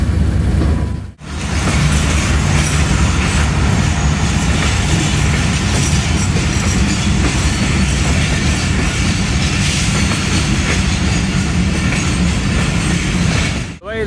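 Zikriya Express passenger train rolling steadily on rails toward Karachi Cantt, a continuous loud rumble with rhythmic wheel clatter and faint squeal, broken only by a brief gap near the start.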